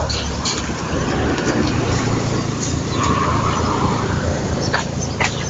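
A car passes on a neighborhood street in Mogi Guaçu, São Paulo, giving a steady, loud road rumble that fills the whole stretch with broadband noise and no clear pause, heard from close by outdoors.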